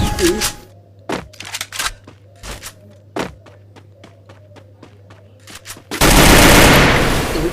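Video game battle gunfire, a series of sharp single shots and short bursts spaced irregularly over a low hum, ending in a louder rushing burst.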